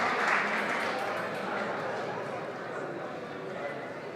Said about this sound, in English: We hear a loud cheer for them.